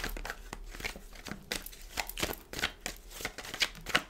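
Tarot cards shuffled by hand for a reading, a steady run of soft riffling and slapping bursts with crisp papery edges, close and moderately quiet, no voice over it.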